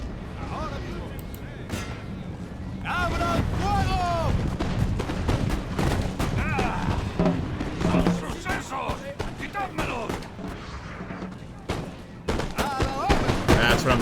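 Fusiliers fire muskets in the video game Napoleon Total War; repeated sharp volleys and scattered gunshots crack through continuous battle din, with a voice speaking over the fighting.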